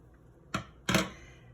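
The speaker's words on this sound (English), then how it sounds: "Got my scissors here to trim little strips." Scissors trimming little strips of fabric, two short crisp snips close by, the second one louder and longer, with quiet pauses between them.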